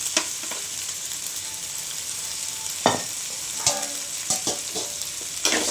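Vegetable kurma being stirred into chapati masala in a hot pan: a steady sizzle with scattered scraping stir strokes of the spoon, close and alone, no talk.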